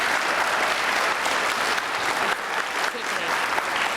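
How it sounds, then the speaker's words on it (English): Steady, dense applause fills a school awards ceremony as the audience claps for fourth grade students honored for their K-Prep test results, a continuous roar of many hands with no gaps. "let's give our fourth grade students currently a round of applause"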